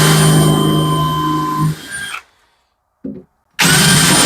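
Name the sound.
countersink drill bit boring through wood from the back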